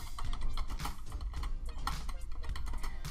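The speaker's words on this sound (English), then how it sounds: "all I'm gonna do right now is just type in the word jolly nurse" Rapid keystrokes on a computer keyboard, close and fairly loud, in an irregular burst of clicks with a steady low background hum and no talking.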